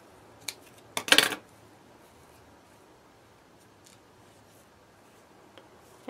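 Scissors trim an extra piece off a handmade hair clip: a cluster of quick, close metallic snips, followed by near silence with a few faint small clicks.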